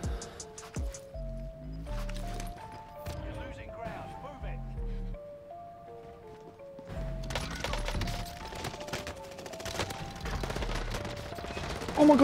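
UZI submachine gun fire in Call of Duty Warzone, heard as several quick bursts of game gunfire in bright cracks, with background music and excited talking throughout.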